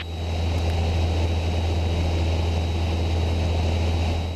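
Light airplane engine droning steadily in level flight at 3,000 feet, a loud continuous hum with propeller tone and no break.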